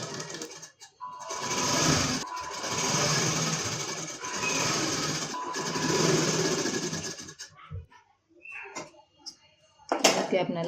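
A sewing machine stitches the cross strip of a four-tuck blouse in three steady, buzzing runs separated by brief stops, followed by quieter clicks and fabric handling.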